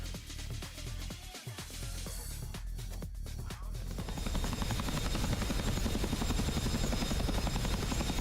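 An Mi-24 helicopter in the flight simulator DCS World, whose continuous rotor thump and turbine whine grow louder and more pulsing partway through, with no voices over it.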